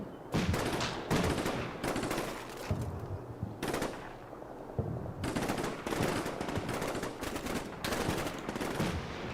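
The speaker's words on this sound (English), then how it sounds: "That's the grenade launcher, I guess." Grenade launcher and other weapons firing in the military game Combat Mission: Black Sea, heard as repeated loud bursts separated by brief gaps.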